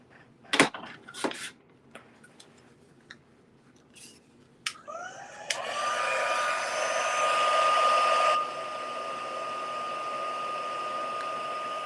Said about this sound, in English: we can go ahead and heat set that